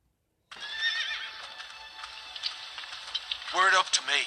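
A horse whinnies in a Game of Thrones video game, a bright wavering neigh near the end after a stretch of steady background sizzle and clip-clop, loud and close.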